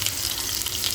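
Onion goes into hot oil already tempered with mustard seeds and cumin, giving a loud, steady frying hiss that fills the brief moment without any talking.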